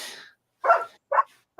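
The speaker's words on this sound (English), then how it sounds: "Dogs bark. It's in their nature." A dog barks three times in short, separate bursts with gaps between them, fairly close and clear, with no talking in between.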